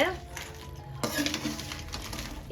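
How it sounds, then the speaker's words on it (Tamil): A spoon scrapes and stirs crab gravy inside a cooking pot, with a soft metallic clink and a low bubbling simmer underneath, close by. "இடையில கொஞ்சம் கொஞ்சம் கிளறி விடணும்."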